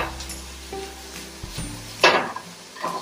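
A prawn and corn omelette sizzles softly in a frying pan, with a few light clinks of a utensil and one louder burst of crackle partway through.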